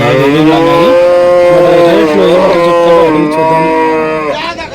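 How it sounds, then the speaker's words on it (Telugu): Jersey breed cows at a busy cattle market low with long, loud, close moos, one drawn-out call stretching across several seconds. "ఇక్కడ కూడా మనకు జెర్సీ బ్రీడ్ ఆవులు అయితే ఉన్నాయి"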